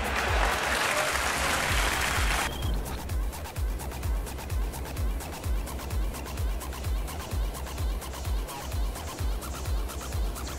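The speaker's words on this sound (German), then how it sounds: "Ja, klatsch ruhig mal!" Applause sound effect in the video game GTA: a dense, loud burst of clapping for about two seconds, followed by steady rhythmic clapping that continues to the end.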